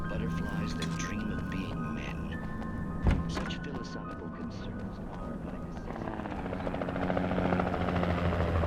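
A helicopter in the horror video game Alan Wake, a steady whirring rotor drone throughout with a dull thunk midway, growing louder toward the end while a voice talks over it.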